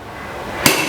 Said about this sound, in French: On va maintenant effectuer la collision, le choc, entre le marteau et l'enclume.